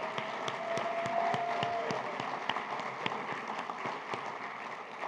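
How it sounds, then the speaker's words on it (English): A ceremonial audience at a Purple Star event applauds steadily for about five seconds, a dense, even wash of many hands clapping at close range with a faint tone running through the first half. "I want to give a round of applause to Mr. Howard Lattimore"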